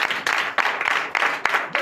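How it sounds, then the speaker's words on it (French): A church congregation at a night prophetic service in Benin applauds the Lord, a dense, steady wash of clapping with occasional sharper bursts and no pauses. "Donnez l'acclamation au Seigneur."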